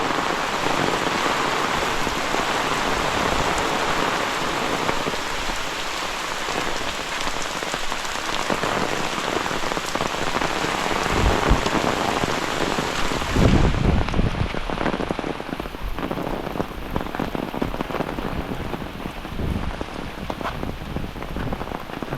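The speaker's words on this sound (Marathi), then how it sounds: "खूप पाऊस आहे" Heavy rain pours down in a Konkan village during a stormy spell with strong winds, a loud, dense, unbroken hiss of drops on surfaces that swells briefly partway through and continues with no voices.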